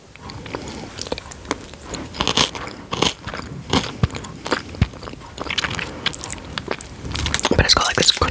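Crisp bites and chewing of a crunchy Butterfinger candy bar, a chocolate-covered peanut butter honeycomb bar. Close-up crackling crunches come in irregular bursts and grow busier toward the end.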